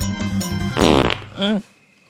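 A loud, comedic buffalo fart sound effect in a Thai comedy film, a series of sputtering blasts followed by a brief squeaky tail before falling silent.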